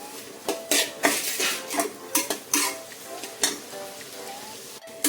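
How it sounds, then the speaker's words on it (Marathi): Tomato and onion being stirred and sautéed in a pan over high heat for biryani, with repeated scraping clinks of a utensil against the pan over a soft, steady sizzle. "गॅस आता फास्ट करायचा आणि परतून घ्यायचं सगळं काही."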